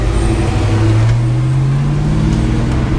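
A 1989 Ford Mustang on a test drive, its engine droning low and loud from inside the cabin, pitch rising gradually as it picks up speed over steady road rumble.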